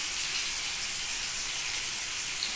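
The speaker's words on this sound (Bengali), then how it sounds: "এর মধ্যে পেঁয়াজটাকে আগে লাল করে ভেজে নিতে হবে" Onions frying in oil in a pan with bay leaf and dried chilli, giving a steady, even sizzle with no breaks and no voice over it.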